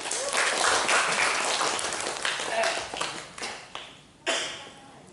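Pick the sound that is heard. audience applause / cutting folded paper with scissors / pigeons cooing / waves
audience applause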